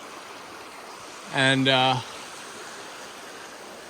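The Surprise River in Tasmania flows steadily, a soft continuous rush of water in a forested setting, while someone briefly speaks over it.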